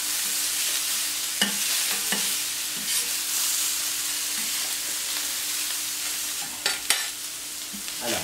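Starchy rice frying on a very hot plancha, a loud continuous close sizzle broken by scraping and stirring knocks from a spatula, with no talking.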